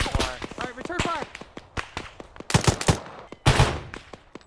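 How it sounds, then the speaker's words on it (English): Rapid gunfire in the Arma 3 video game during a city assault, sharp repeated cracks and short bursts, loud and close, mixed with voices talking over the shots. "Alright, return fire!"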